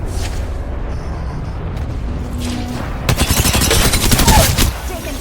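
Dense bursts of gunfire from an Apex Legends firefight erupt partway through, rapid and loud shots overlapping into a fusillade over a low game ambience, with faint voices nearby.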